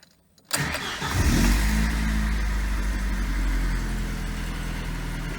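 An Opel Omega A 2.0 car engine cranks briefly after a moment of silence, catches and fires up, then settles into a steady, close idle with a slight rev at the start.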